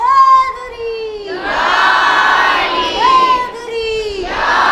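A religious gathering's crowd shouts a loud collective chant response to a Haidari call, voices surging together in sustained waves that rise and fall in several bursts, with a leading voice's harmonic cries between them.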